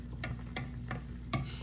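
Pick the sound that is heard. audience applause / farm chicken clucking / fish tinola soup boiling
fish tinola soup boiling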